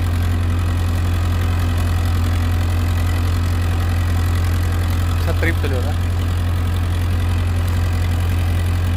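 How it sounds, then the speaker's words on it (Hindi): A 60 HP Euro 60 tractor engine runs steadily at idle with a constant low throb, close by, while someone speaks briefly over it. "ये देखिए फुल मस्ती ट्रैक्टर चलता हुआ।"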